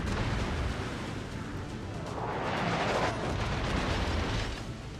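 A naval gun salvo booms from a heavy cruiser in World of Warships, a dense, continuous roar of cannon fire and rumbling blast that swells briefly midway and stays loud throughout, with no voices.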